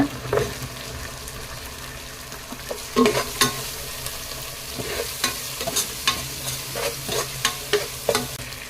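Four slit green chilies fry in a hot pan while being stirred for a wedding-style biryani, giving a steady sizzle broken by repeated sharp scraping clicks of the spoon, close and alone.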